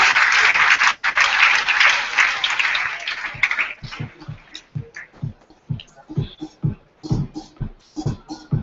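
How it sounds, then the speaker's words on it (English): A conference audience at a panel session gives a round of applause. It is dense and loud for the first few seconds, then thins into scattered individual claps that fade out. "So let's give them a round of applause, guys."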